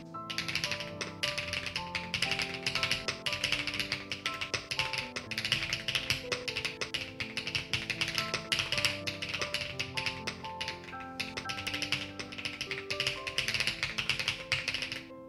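Steady, fast tapping of keys on a computer keyboard while typing a Linux terminal command, continuous and close, with music playing underneath throughout.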